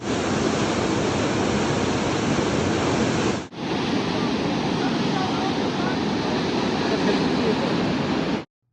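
Glacier meltwater pours down a waterfall in Johnson Canyon, Canada, a loud, close, constant roaring rush of falling water with a brief dip partway through before it cuts off.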